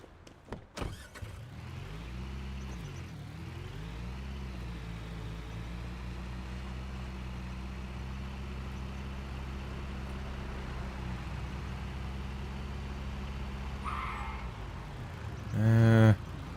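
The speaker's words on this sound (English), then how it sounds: "All this traffic, geez, sounds busy today." Street traffic in Storage Hunter Simulator: a steady engine drone with shifting motor tones, a short rise in pitch early on, and a louder vehicle passing near the end.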